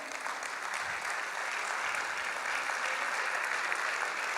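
Warm, sustained clapping fills an auditorium as an audience applauds award-winning architects, an even and continuous wash of many hands with no talk.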